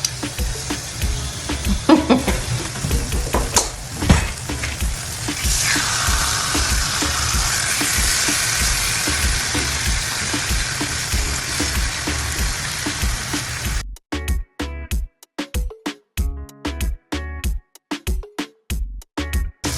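Chicken sizzles and crackles in a crowded oiled pan, a steady hiss with spattering pops that turn sharper and more broken toward the end.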